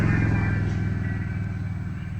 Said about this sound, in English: A lot of traffic noise here.